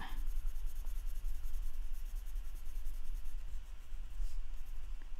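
A pencil colors a hat on a greeting card, a steady close scratchy rubbing that continues without pause for several seconds, with no talking.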